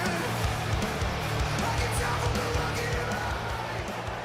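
Record crowd at the NXT Stand & Deliver wrestling event, a steady dense roar of cheering and yelling in a large arena, sustained and loud throughout with no breaks.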